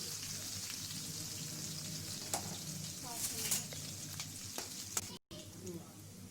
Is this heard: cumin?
yes